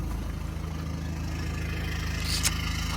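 An Audi A3 with a binding rear brake drives along, heard from inside as a steady low engine hum with road rumble, and a brief faint squeak near the end.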